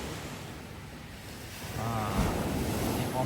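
Ocean waves on an island beach at Pulau Besar, Mersing, wash in with a continuous roar that swells louder halfway through, mixed with wind buffeting the microphone and a brief voice near the end.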